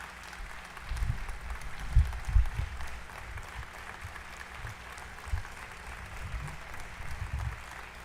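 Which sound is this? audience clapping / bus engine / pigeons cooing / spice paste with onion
audience clapping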